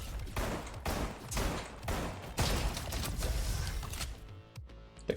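Rapid bursts of Quasar SMG fire in the robot-shooter game RoboQuest, several loud sustained volleys in quick succession, then a brief pause and a final clipped shot.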